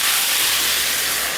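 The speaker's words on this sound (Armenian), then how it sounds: "Կարմրել են կարկանդակները, ավելացնում ենք ջուրը։" Water poured into a hot pan of browned meat dumplings sets off a loud, close, continuous burst of steam and hiss, with no talking.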